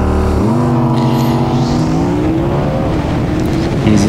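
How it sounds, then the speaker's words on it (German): Audi R8 V10 Plus and Porsche Carrera GTS in a drag race, a loud steady engine roar with rising gear-pitch harmonics that dips at a shift and climbs again, continuous and close throughout. "Hier haben wir den Audi R8 V10 Plus gegen den Porsche Carrera GTS."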